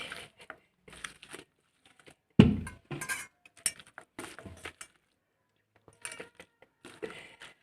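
Eggplant chutney with chopped coriander is mixed by hand in a bowl, giving scattered soft clinks, rustles and squelchy taps in short bursts with quiet gaps between, close and fairly faint, with one louder knock partway through.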